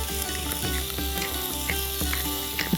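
Asparagus spears sizzling in a frying pan with crushed red pepper and salt, a close, continuous crackling hiss with scattered small pops and spits, fairly loud and alone.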